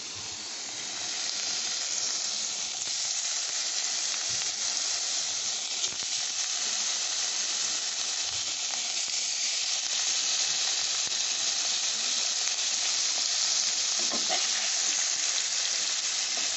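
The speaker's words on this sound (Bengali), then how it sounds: "তারপরে আমি এই যে পনিরগুলো যে মেখে রেখেছি ওইগুলো আমি দিয়ে দিচ্ছি। খুব হালকা একটু ভেজে নেবো সামান্য।" Marinated paneer frying in ghee in a pan, a constant bright sizzle and hiss that runs steadily throughout, with faint occasional stirring underneath and no speech.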